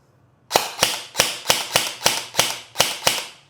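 An airsoft rifle fires semi-automatically: nine sharp, close, evenly spaced cracks in quick succession, each snapping loudly out of near silence.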